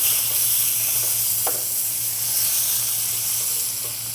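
Fish coated in Parmesan cheese fries in a hot pan, giving a steady, close hiss of sizzling with a faint low hum beneath it, and no one speaks.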